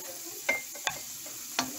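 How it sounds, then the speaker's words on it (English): Keto meat mixture seasoned with chili powder simmering in a pan, a soft steady sizzle with three brief scraping stirs of a utensil, close and fairly quiet. "Add a little bit of chili powder to this. Let it simmer a little bit more."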